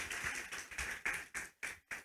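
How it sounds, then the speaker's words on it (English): An audience applauds an invited guest at a talk, giving a short burst of a few rhythmic, fairly close claps that fade quickly. "I would like everyone to give a big applause to our invited guest"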